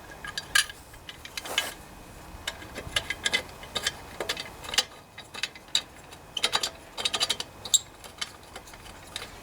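Muffler bolts on a Toro lawnmower are tightened with a ratchet, giving close, uneven bursts of metallic clicking and ratcheting with short pauses between them.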